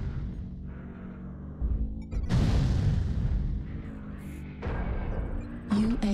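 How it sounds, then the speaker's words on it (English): Artillery strike blasts in an online shooter game, a loud rumbling explosion burst rolling through the middle of the clip, with a short voice-like game announcement near the start and some game effects at the end. "Artillery strike online."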